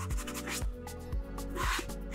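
Rhythmic rasping strokes of a sanding sponge rubbed back and forth over a painted Sister of Battle helmet model to smooth brush strokes, repeating steadily at close range.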